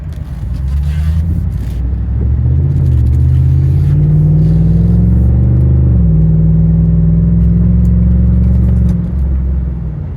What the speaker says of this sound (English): Accelerates, aggressively, nicely.